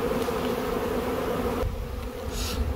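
A swarm of honeybees clustered on apple tree branches during swarm capture hums with a continuous, loud, close buzz and no voices.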